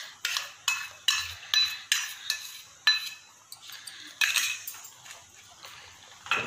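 A metal spoon stirs a mango and bread mixture in a bowl, giving a steady series of close, bright scraping clinks at a regular rhythm, quiet and alone.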